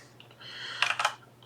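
Keys clatter on a computer keyboard as a Linux install command is entered on Ubuntu Server, a few light taps followed by a denser burst of clicks, close and alone.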